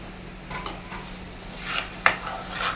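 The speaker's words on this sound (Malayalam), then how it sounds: "നല്ല ഉളന്ന് മിക്സ് ചെയ്ത് കൊടുക്കാം ഈ പുളിനീര് കിടന്ന് പൊടി നല്ല ഉളന്ന് തിളയ്ക്കട്ടെ" Tamarind water being stirred into a Kerala-style vala fish curry in a pan, with faint scraping stir strokes and soft sizzling, quiet and close, a sharper utensil clink near the end.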